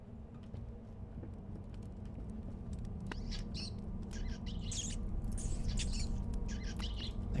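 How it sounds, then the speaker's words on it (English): Bird calls inside the horror video game Layers of Fear, with bright chirps and tweets scattered through the second half over a steady low ambient drone, moderately close. "There's that bird."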